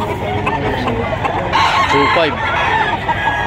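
A stag rooster crows loudly and clucks among other fowl at a livestock auction market in Padre Garcia, Batangas, close by and clear, while a man briefly calls out a price.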